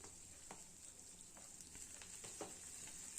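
Onion and tomato frying over medium heat in a pan, a faint, quiet sizzle with a few soft stirring touches and a small clink near the end.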